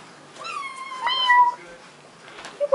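A house cat gives two or three close, clear meows in quick succession, rising and falling in pitch, with no talking.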